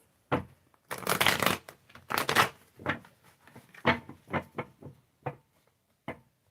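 A deck of tarot cards is shuffled close up in loud, snappy riffles and slaps, with a couple of long bursts early on followed by shorter irregular flicks.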